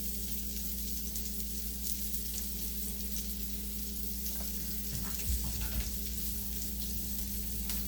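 A giant puffball mushroom fries in a pan, giving a steady, close sizzle that runs evenly throughout with light crackles, alone without any voices.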